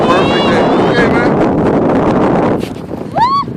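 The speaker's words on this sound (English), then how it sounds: "It's a windy day." Strong outdoor wind buffets a microphone outside an art museum during kite flying, making a loud, continuous roar that eases slightly near the end, with brief squeaky voice-like tones on top.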